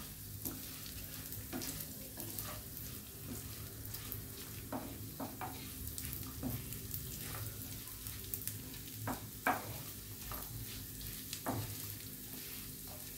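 Basanti pulao rice fries in a pan with a continuous close sizzle, broken by repeated sharp scrapes and clicks of a spatula stirring. No one speaks.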